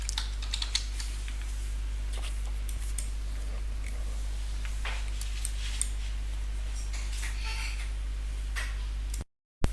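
Keys on a computer keyboard are typed in an irregular run of light clicks while a password is entered, fairly quiet over a steady low electrical hum, with a brief dropout near the end.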